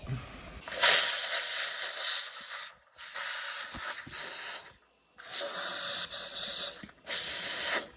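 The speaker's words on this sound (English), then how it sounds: "I'm gonna hit this with a steamer." Steam cleaner hissing while cleaning an EGR port on a 1996 Honda Odyssey RA1: loud, close bursts of harsh hissing come in four spurts separated by short pauses.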